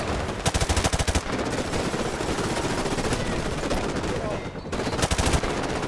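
Rapid bursts of automatic gunfire from the Call of Duty Modern Warfare Remastered campaign, loud and close, with sustained firing and a brief lull before another burst.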